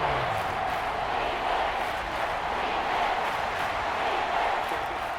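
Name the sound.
Arrowhead stadium crowd roaring, Madden NFL video game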